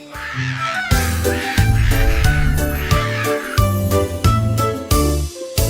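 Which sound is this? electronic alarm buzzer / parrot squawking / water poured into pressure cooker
parrot squawking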